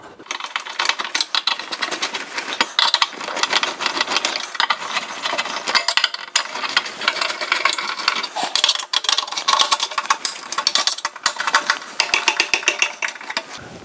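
Screws being tightened on a Suburban RV furnace with a power driver, giving dense, close, rapid ratcheting clicks and whirring bursts that repeat irregularly throughout.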